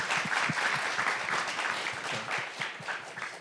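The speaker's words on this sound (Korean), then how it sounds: "박수 좀 부탁드립니다" Audience applause at a Korean entrepreneurship conference panel discussion, a crowd clapping steadily with a few distinct nearer claps standing out, fading slightly toward the end.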